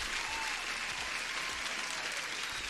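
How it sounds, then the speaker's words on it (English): Applause, a dense, even patter of clapping that continues without a break at moderate loudness. "Huge applause to Camille."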